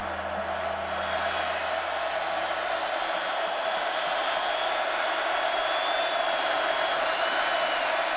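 Stadium crowd at the Ohio State at Oklahoma college football game, a steady loud roar of massed voices throughout, with a commentator talking faintly over it.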